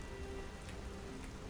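Steady rain falls in the video game Skyrim, a dense, even hiss of drops on surfaces that is quiet and continuous with no talking.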